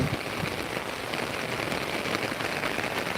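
A downpour drums continuously on nearby surfaces, a thick, even wash of raindrops that stays loud throughout with no speech.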